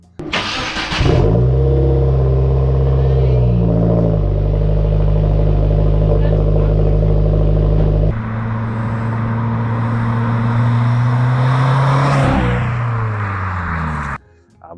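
A Subaru WRX fitted with a basic beginner exhaust revs close by, its engine note climbing and holding in long sustained pulls before dropping off abruptly at the end.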